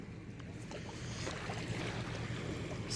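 Outdoor seaside ambience at dawn as fishermen ready their fishing boats, with a steady broadband wash of wind and water rising slightly over the few seconds, no voices.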